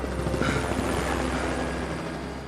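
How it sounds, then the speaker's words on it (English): A tourist helicopter passes over an active volcano, its rotor thudding in a steady low chop with a whining engine hum, heard loud and close and fading slightly as it moves on. "Tourist helicopters continue to fly by"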